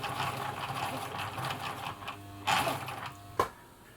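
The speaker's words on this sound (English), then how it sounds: "So we're on zigzag. I'll just go to the full width zigzag there." A Husqvarna Viking Practica 4010 sewing machine runs a full-width zigzag stitch, a close, steady mechanical whirr with a couple of sharper clicks near the end.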